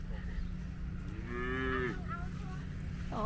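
Cows and calves mooing on a village farm, several long drawn-out lowing calls rising over a steady low background hum, with a shorter moo at the end.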